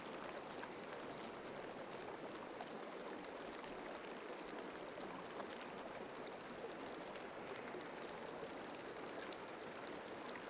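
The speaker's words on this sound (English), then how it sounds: "This is the sound of water folding underneath the frozen ice on the river that runs through my city." Water flowing beneath frozen river ice in a city, a constant faint wash of rushing sound with light crackle throughout and no voices.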